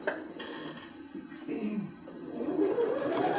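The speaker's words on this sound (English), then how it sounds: "So we're just sewing along the lines." Sewing machine stitching along the lines of a fabric bag, a fast whirring mechanical hum that rises and speeds up toward the end, with a voice talking over part of it.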